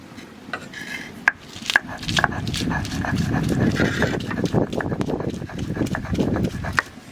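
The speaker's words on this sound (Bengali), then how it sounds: "তা সর্ষেটা আমি বেটে নেব সাদা সর্ষে আর কালো সর্ষে" White and black mustard seeds are ground with green chillies, giving rhythmic scraping and knocking strokes up close, with occasional sharper clacks and faint voices in the background.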